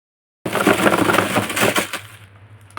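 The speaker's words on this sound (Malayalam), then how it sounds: "കൂടെ മിഠായി എല്ലാം പൊട്ടിച്ചിടുവാണ്." Candy packets are torn and crushed open while a suitcase is packed, giving a burst of crinkly plastic crackling and snapping up close for over a second before it fades to near quiet.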